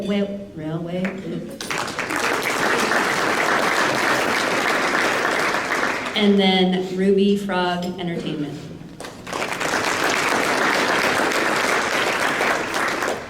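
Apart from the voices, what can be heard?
audience applause at an awards luncheon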